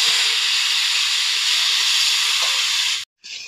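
Bottle gourd drops into hot oil with browned onion and garlic, setting off a loud, steady sizzle that holds for about three seconds before cutting off abruptly.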